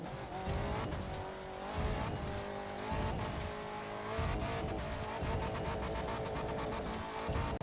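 A Land Rover Defender Works V8 70th Edition truck in the racing game The Crew 2 roars as it accelerates hard, its loud engine climbing through gears in repeated rising surges with tire noise, steady and close with no talk.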